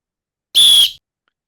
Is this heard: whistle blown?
yes